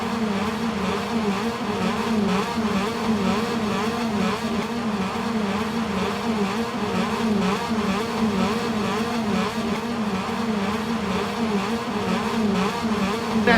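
Moto2 motorcycles roar off the line at the start of the Indonesian Grand Prix in Mandalika, a dense, steady wall of engine noise from a full grid accelerating together, loud and continuous throughout.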